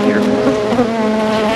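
Honey bees hum in a dense, continuous drone close around a newly set up farm hive, steady and loud with no pauses.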